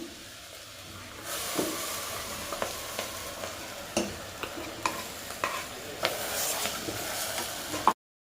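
Ground spice paste for Iyengar-style avare bele sambar sizzles and hisses steadily in a pan, with repeated scraping clicks of stirring throughout, the noise dropping out abruptly at the end.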